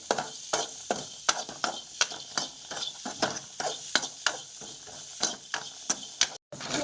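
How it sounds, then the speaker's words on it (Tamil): Grated coconut is sautéed in a pan, a spoon scraping and stirring in quick repeated strokes over a soft sizzle, close and fairly quiet. "கொஞ்சம் வதட்டி எடுத்துக்கலாம்."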